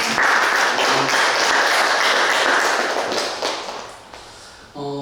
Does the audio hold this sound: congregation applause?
yes